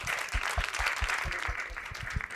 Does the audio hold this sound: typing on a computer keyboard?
no